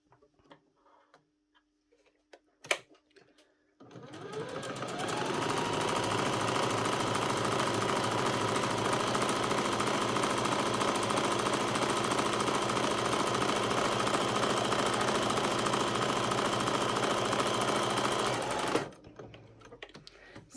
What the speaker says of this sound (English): we're going to sew the outside and the inside leg